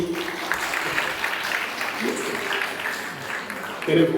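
Audience at a school youth festival clapping, a dense, even patter of applause filling the hall, with voices mixed in.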